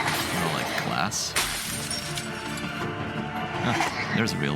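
Glass breaking in the video game The Wolf Among Us, a sharp crash set within a dense, noisy game soundscape with ambient rumble and faint voices.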